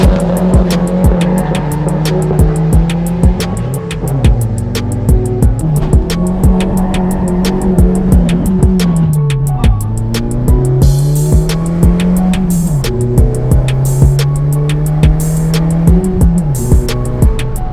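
1996 Peugeot 205 HDI diesel accelerating hard along a 200-metre track, engine droning loud and close as it climbs through the revs with shifts and dips, a steady ticking clatter running throughout.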